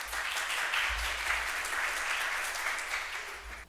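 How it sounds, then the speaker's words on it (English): Audience applause at a startup pitch day event in Houston, a dense, steady wash of clapping that holds loud for nearly four seconds before tapering slightly at the end. "One more round of applause."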